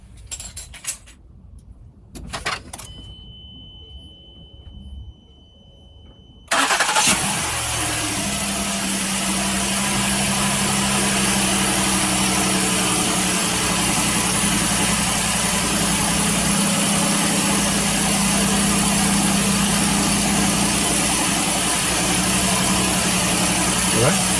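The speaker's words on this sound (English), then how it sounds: "Now we'll just start it up, hope for the best." A 2017 Ford Explorer Police Interceptor Utility engine, just fitted with new spark plugs, cranks after a few faint tool clinks and settles into a steady, loud, continuous idle that holds for over fifteen seconds.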